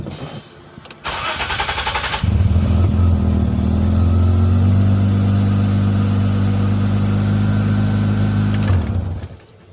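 A car engine cranks and catches after repair of a clogged, weak fuel pump and filter, then settles into a loud, steady idle that runs for several seconds before cutting off.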